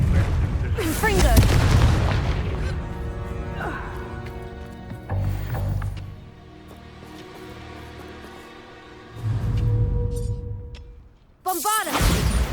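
Spell blasts from the Confringo fireball curse in Hogwarts Legacy, several loud booming bursts spaced a few seconds apart over a continuous game music score, with a sharper crackling burst near the end.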